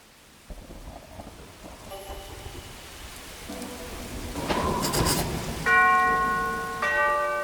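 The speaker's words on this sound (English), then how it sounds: "I'd better ring the bell." A bell rings twice near the end in a mansion in the video game Arkham Horror: Mother's Embrace, clear ringing tones over a steady rumble of rain and distant thunder.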